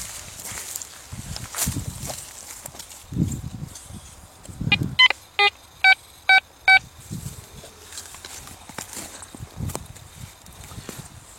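Quest Q40 metal detector sounding a run of five short, evenly spaced electronic beeps mid-clip, set among rustling, digging and footstep noises outdoors, with no talk.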